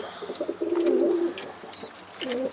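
Soft, throaty pigeon cooing from a pigeon that was hit by a car, a few short low coos then a longer drawn-out one, with a brief coo again at the end.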